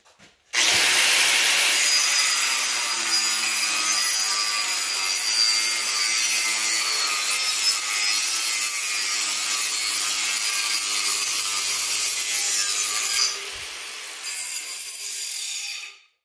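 A grinding wheel cuts a notch into steel tubing for a roll cage, a loud, steady, high-pitched grind that runs almost nonstop for about thirteen seconds, dips briefly, then resumes before stopping.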